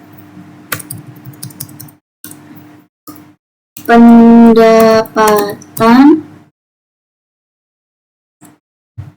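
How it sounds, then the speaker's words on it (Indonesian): Keys tapped on a computer keyboard while typing a variable name into statistics software, heard as sparse, soft clicks in the first few seconds before a louder stretch of voiced, tonal sound in the middle. "Kita ketik pendapatan"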